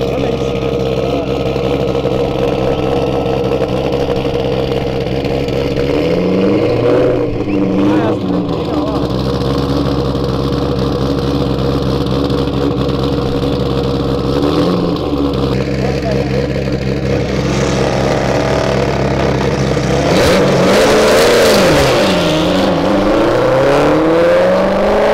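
A Corvette's exhaust drones loud and close with a steady engine tone, rising in revs a few times and swelling into a harsher roar near the end, with people talking over it.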